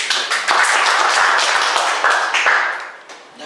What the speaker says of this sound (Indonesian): Tepuk tangan untuk Yesus.